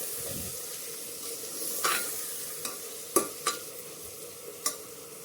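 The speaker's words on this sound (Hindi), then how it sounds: "तो देखिए धीमी आंच पे ही हम इनको भूनेंगे" Spice paste for a jackfruit curry is stirred in a pan over low heat, giving a soft continuous sizzle with several sharp clicks and scrapes of the spoon against the pan.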